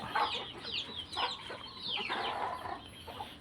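Young Leeyar Khao gamecock chickens, three to six months old, cluck and chirp in a lively, overlapping stream of short calls, fairly close and with no voices.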